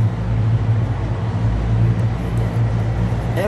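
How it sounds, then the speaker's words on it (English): Someone else's car engine has been started at a car show and idles with a steady low rumble and hum that stays constant and fairly loud. "We are at a car show, so somebody else started up a car."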